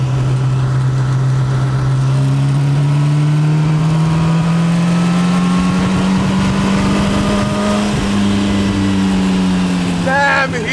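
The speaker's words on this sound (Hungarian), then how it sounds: "Tehát most nyomok mindjárt egy kövérebb gáz" A 100-year-old car's engine is pushed under heavy throttle, a loud steady drone that climbs gradually in pitch as it accelerates, close and continuous.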